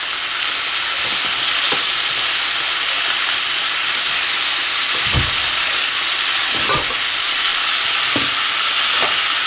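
Mutton biryani ingredients being stirred together in an electric rice cooker, a steady loud sizzling hiss with a few soft scraping knocks of the spoon, no talking.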